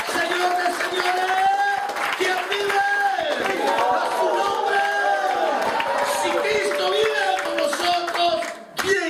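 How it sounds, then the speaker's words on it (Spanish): A church congregation applauds during a sermon, with steady sustained clapping and crowd voices, while a loud amplified voice speaks over the applause throughout. "Denle un aplauso fuerte al Rey de Reyes, Señor de Señores."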